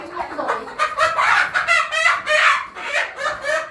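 Chickens from a free-range hillside flock cluck and squawk loudly and continuously at close range as they are caught, with agitated rising calls overlapping throughout.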